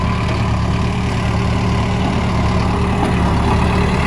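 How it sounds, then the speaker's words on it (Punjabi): A 4x4 tractor carrying a fully loaded front loader runs with a steady, loud engine drone, a low continuous rumble with no breaks or voices. "ਦੇਖੋ ਫਰੰਟ ਕਰਾ ਵੀ ਪੂਰਾ ਭਰ ਕੇ ਲੈ ਕੇ ਜਾ ਰਿਹਾ ਇੱਕ ਬਾਈ 4x4 ਟਰੈਕਟਰ"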